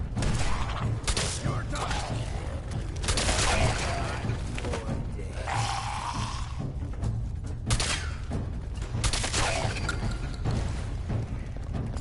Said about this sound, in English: At least my shotgun can deal with them